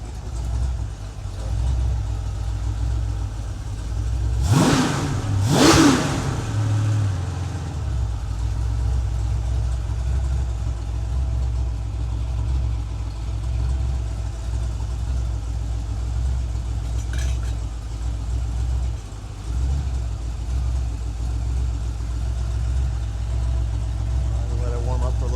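Ford 302ci V8 warming up at a steady idle, with a couple of brief revs near the start before settling into a continuous low rumble throughout.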